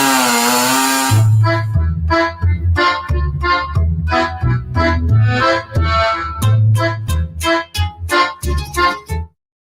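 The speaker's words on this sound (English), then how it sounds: "Will, get the chainsaw." A chainsaw roars loudly and continuously, revving up and down in repeated bursts for most of the clip before cutting off abruptly near the end.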